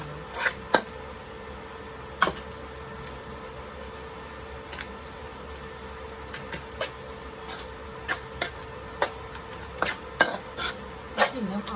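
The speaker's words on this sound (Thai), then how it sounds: "อันนี้ก็คือเรามาผัดง่ายๆให้มันหอมเครื่องแกงไปเลยนะคะ" Curry paste is stir-fried in a pan, with a steady faint sizzle under repeated sharp scrapes and clinks of a utensil against the pan, close and without talk.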